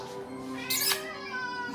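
A cat indoors gives a single drawn-out, wavering meow that swells briefly in the middle, heard close and fairly clear.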